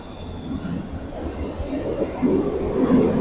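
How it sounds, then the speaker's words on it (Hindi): A metro train in Portugal rumbles into the station with a steady low roar that builds toward the end, with faint squeals of wheels on the rails. "काफ़ी शोर होता है मेट्रो का"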